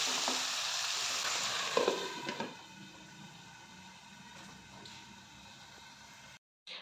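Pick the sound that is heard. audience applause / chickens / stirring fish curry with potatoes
stirring fish curry with potatoes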